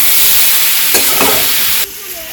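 Chopped tomatoes sizzle and frying hiss in a pan while a spatula scrapes and stirs, village-style home cooking; the loud frying continues and then drops away abruptly near the end.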